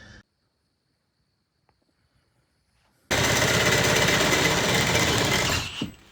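A Milwaukee power tool rattles loudly and continuously against a rusty BMW E28 subframe, a harsh hammering burst that starts abruptly after near silence and runs for about three seconds before cutting off.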